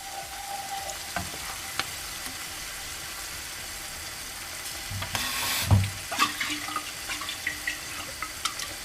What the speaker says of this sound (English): Now I'm going to add the tomato sauce.